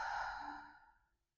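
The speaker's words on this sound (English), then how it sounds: "Take a big breath here and let it go." A long, breathy exhale is let out during a yoga-style lower back stretch, close and fairly loud at first, then fading smoothly to silence over about a second.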